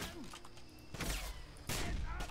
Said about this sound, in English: I gotta shoot him!